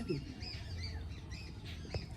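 Restless Giribaz pigeons in a loft give short squawking calls and flutter over a low background murmur, with brief sharp sounds near the end.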